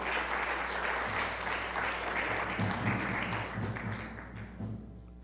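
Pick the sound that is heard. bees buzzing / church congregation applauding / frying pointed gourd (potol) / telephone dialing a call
church congregation applauding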